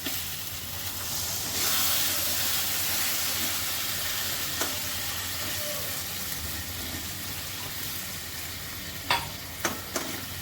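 Water poured into a pan of pointed gourd curry that is sizzling over the heat, giving a steady broadband hiss and crackle throughout, with a few short clinks of a utensil near the end and no talk.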